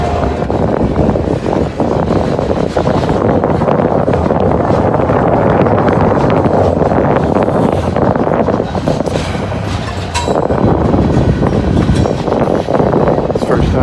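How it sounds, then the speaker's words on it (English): Strong wind buffets the microphone at a trackside railway spot, a loud, continuous rushing roar that fills the whole stretch with only brief dips. "I don't know where all this wind came from"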